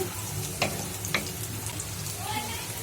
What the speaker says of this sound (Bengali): তেলের মধ্যে আমি প্রথমেই জিরার ফোড়ন দিছি, তারপরে পেঁয়াজ রসুন কুচি, তারপরে একটু হালকা ভাজা দিব